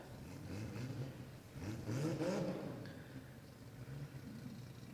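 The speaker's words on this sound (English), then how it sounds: "Ahan now about to move his Supra forward." Ahan's Toyota Supra rumbles low and steady at a drag racing event, the engine swelling briefly as the car starts to roll forward, heard from a moderate distance over a constant background wash.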